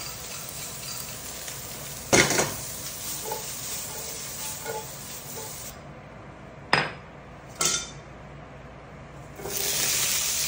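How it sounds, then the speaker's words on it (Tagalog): Pine nuts toasting in a hot pan on a home stove, a soft continuous sizzle and hiss broken by a few sharp clattering stirs and scrapes of the utensil against the pan. "Toast some pine nuts."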